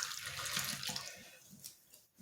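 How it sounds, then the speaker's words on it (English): Water runs steadily from a bathroom tap in a continuous hissing splash that fades and dips briefly near the end, close by and moderately loud. "I'm gonna turn that water off."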